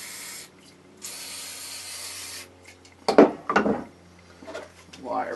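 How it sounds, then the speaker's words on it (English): Aerosol brake cleaner hisses in two bursts onto front suspension parts of a Plymouth Duster, close by, then gives way to scraping and handling noises. "Use some brake cleaner."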